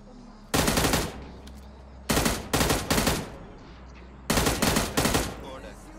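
Automatic weapon fire in PUBG Mobile comes in three loud, close bursts of rapid shots separated by short pauses.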